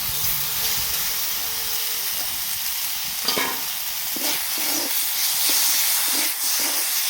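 Turmeric, cumin, mustard and ginger paste fry with bitter gourd in a pan, giving a steady loud sizzle and hiss with occasional stirring scrapes throughout.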